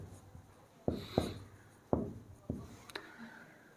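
Writing during a maths lesson on circles: a handful of sharp taps and short scratches come in quick, irregular strokes, near and fairly quiet, with faint room noise between them.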